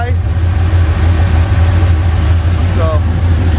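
An LS-swapped OBS Ford truck engine idles steadily at its first start, a loud, constant low rumble with a faint rough edge, heard close with fan noise beneath.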